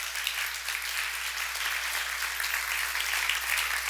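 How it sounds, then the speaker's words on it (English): A crowd at an evening prayer vigil claps steadily for the speakers. The applause is moderately loud and even throughout the short stretch, with no voices over it. "let's give them all a round of applause, please."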